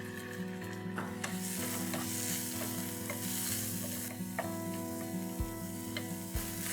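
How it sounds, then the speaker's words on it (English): Finely chopped onion frying in oil with cumin seeds and ginger garlic paste, a continuous close sizzle with regular tapping and clicking of a spoon stirring in the pan, no voices. "To this, add 1 finely chopped onion."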